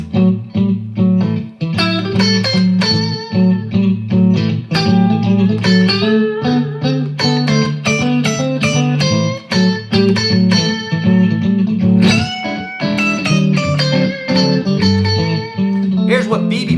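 Electric guitar playing minor blues licks, clear and close, with bent notes, quick phrases and sustained chords in a steady run of picked notes.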